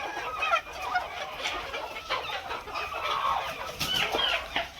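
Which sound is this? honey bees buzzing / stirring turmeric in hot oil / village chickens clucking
village chickens clucking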